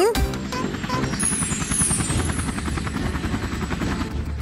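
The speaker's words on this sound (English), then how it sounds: "Where did the helicopter come from?" Toy remote-control helicopter flying close by, a steady buzzing rotor whine with rapid pulsing that runs through the whole stretch, loud and continuous, with a brief voice at the start.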